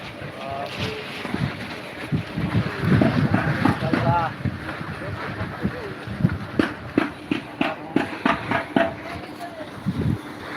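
Strong wind gusts across an open field at a cattle market, buffeting the microphone in loud, uneven rushes with a rumbling low end, and indistinct voices are heard beneath.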